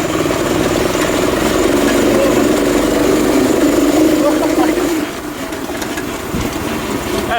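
A rideable remote control go kart drives fast, its motor a steady continuous whine with heavy rumble, loud and close throughout, easing slightly near the end while people talk over it.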